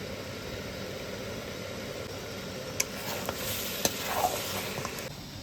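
Mutton curry is stir-fried with garam masala and spices in a pan: a steady low sizzle underlies a few sharp clicks and scrapes of the spoon against the pan, with no voices.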